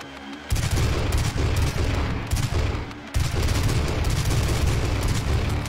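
Dense, loud gunfire from shooting demons in the Doom 2016 game, heavy rapid blasts in two long sustained bursts with a brief gap between them, no talk.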